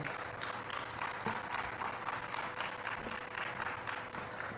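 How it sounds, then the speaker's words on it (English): A large audience at the launch of a green ammonia project in Kakinada claps in a sustained, even round of applause, heard at a distance and fairly quiet throughout. "Once again, round of applause"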